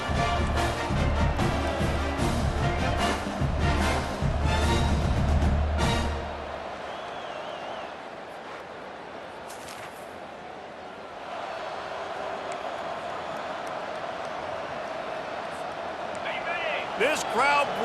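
Stadium crowd roar from the EA Sports College Football 25 video game during a Nebraska at Missouri matchup: a loud, sustained wall of cheering with sharp thumps early, easing slightly midway, with voices talking over it.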